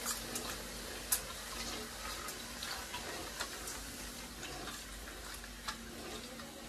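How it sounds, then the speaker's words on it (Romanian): Vinegar mixed with baking soda fizzing in a kitchen while tripe soup is prepared, a faint, steady hiss like carbonated mineral water with a few soft clicks and ticks scattered through it. "Oțet cu bicarbonat, zici că e apă minerală"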